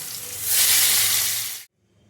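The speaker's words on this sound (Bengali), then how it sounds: "এবার ভেজে নেব পটল, বেগুন" Loud, crackling sizzle of pointed gourd, eggplant and pumpkin frying in hot oil, swelling after a moment, then cutting off abruptly into near silence.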